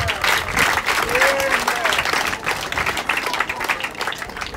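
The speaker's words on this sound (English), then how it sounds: "So give yourselves a round of applause" An audience at the launch event of a health campaign applauds, with dense, continuous clapping from a large crowd that stays loud throughout and fades slightly at the end.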